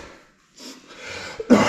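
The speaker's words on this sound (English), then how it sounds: "Making me cough." A single short cough bursts out near the end after a quiet stretch and some faint shuffling, close and fairly loud.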